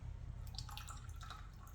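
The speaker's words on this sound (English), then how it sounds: "I'm just going to drain the last couple of drops out." Last few drops of water draining out of a houseplant pot during repotting with a moss pole, steady close dripping and trickling with no talk.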